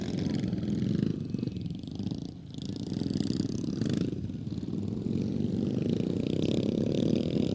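350cc motorcycles racing on a dirt track during a novice qualifying round, a continuous buzzing engine drone that swells and fades as the bikes pass, with faint crowd noise behind.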